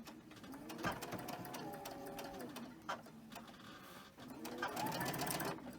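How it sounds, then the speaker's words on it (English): A sewing machine stitches quilt fabric, running over previously sewn thread in rapid whirring bursts separated by short pauses, close and fairly faint. "I'm just going to repeat sewing over it."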